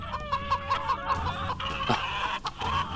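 Many chickens clucking together in a busy, overlapping chorus, with repeated sharp calls and cackles rising over a steady background of fowl noise.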